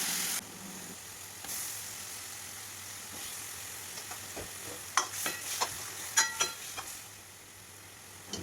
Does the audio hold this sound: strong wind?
no